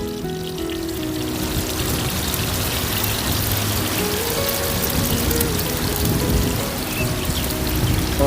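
Oil being poured into a pan for frying brinjal bajji, a steady close liquid rush with a trickling, rain-like texture that runs on without pause.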